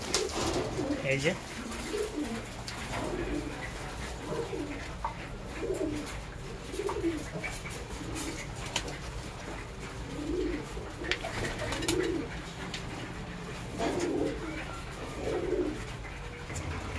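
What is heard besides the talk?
pigeons cooing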